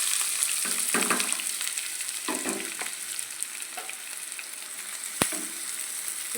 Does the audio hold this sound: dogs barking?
no